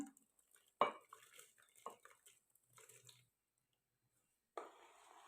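Quiet, intermittent clinks and scrapes of a spoon stirring soaked sago in water in a metal pot, followed by a pause and another clink.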